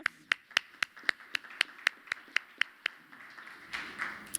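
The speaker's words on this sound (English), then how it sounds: "So with that, let's give him also an applause." Sparse applause at a housing policy convening: about a dozen distinct, fairly quiet hand claps in a steady beat, then a brief softer patter of clapping as they end.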